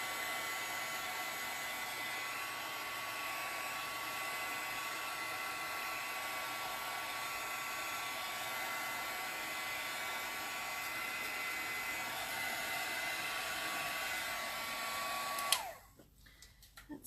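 A heat tool runs steadily on chalk stencil paint for about fifteen seconds, a loud even blowing whir that cuts off abruptly near the end, leaving a few small handling sounds.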